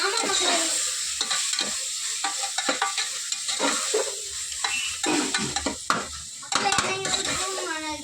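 Ginger-garlic paste for biryani sautés loudly in a pan, a dense sizzle broken by repeated scraping and clanking of a spatula against the metal. A voice briefly joins in.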